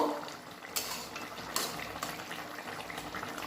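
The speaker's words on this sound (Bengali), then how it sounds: "একটু নেড়ে চেড়ে দেব।" A spoon stirs a bitter gourd, potato and bhola fish curry in a pot, a few scraping clinks over a low bubbling simmer, with two sharper metallic knocks standing out.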